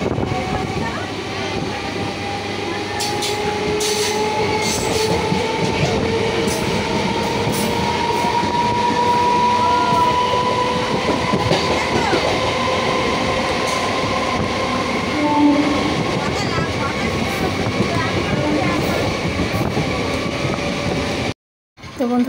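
Onboard a crowded Sunday passenger train heading to Kolkata: a loud, constant rumble of wheels and carriage with whining tones and faint clicks, while muffled voices sit in the background, before a brief cut near the end.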